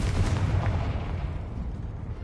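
A Confringo spell blast in the video game Hogwarts Legacy booms out as a single loud, rumbling explosion that fades over about two seconds.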